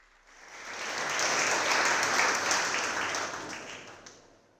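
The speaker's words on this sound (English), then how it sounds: "Please give them a round of applause." Applause from a conference audience at the APAC Summit kickoff in June 2023 swells from quiet to a full, dense wash of clapping, then fades away, with no voices over it.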